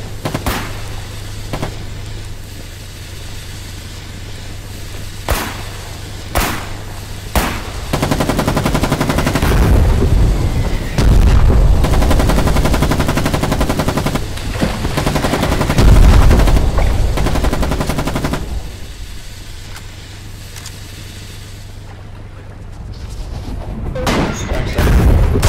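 Bursts of automatic gunfire and heavy booming explosions from the war game Foxhole rattle in dense, loud stretches, easing into sparse single shots and distant thuds between volleys.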